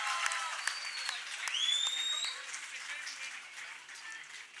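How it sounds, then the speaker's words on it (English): At a live stage event for a racing league reveal, an audience breaks into moderate clapping, mixed with crowd noise and a few whistle-like tones, with a voice talking over it. "everybody, please put your hands together"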